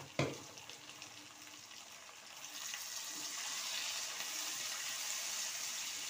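Chicken pieces and prawns coated in salt, turmeric, chilli powder and a little oil dropped together into a hot pan: a sharp splash at the start, then a steady bright sizzle that swells and holds, moderately close.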